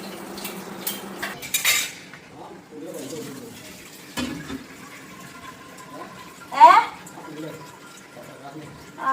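Dishes, pots, a pressure cooker and a lid get washed in a home kitchen: clattering metal clinks and knocks, running water and scattered cutlery rattles come in irregular bursts, with a loud clang near the end and a voice heard faintly.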